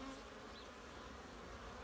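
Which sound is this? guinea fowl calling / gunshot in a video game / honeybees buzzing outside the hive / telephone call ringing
honeybees buzzing outside the hive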